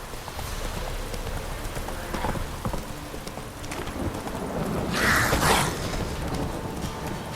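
Horse hooves clip-clop at a steady trot, with a louder, brighter rustling burst midway over a constant low background.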